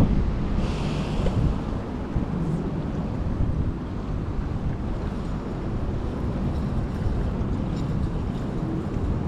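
Strong wind blows over open sea near Penang Bridge during a fishing trip, a steady, loud rushing roar mixed with wave wash and microphone buffeting that continues without letup.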